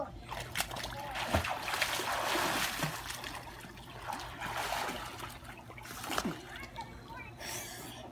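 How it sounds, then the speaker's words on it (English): A child splashes and paddles in water, with uneven sloshes and trickles close by and a few sharper splashes; quiet voices can be heard in the background. "I swim from here to there."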